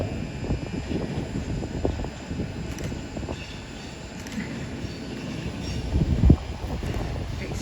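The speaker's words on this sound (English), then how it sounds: "Coming up now, and it's the first time I've ever seen this one, the LNER Flying Scotsman service." An LNER service train in Flying Scotsman livery rolls through Doncaster station with a steady rumble and wheel noise, a faint high whine and a brief louder clunk near the end, heard from the platform.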